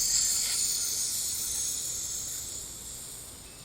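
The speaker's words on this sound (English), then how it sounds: "When we make the hissing sound, we want to go push all the way out." A long, forceful hiss of breath pushed out through the teeth during a breathing exercise, close and steady, slowly fading toward the end of the exhale.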